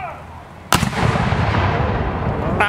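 A single loud, sharp bang rings out after a short lull, followed by a long rumbling echo and crackle that fades slowly.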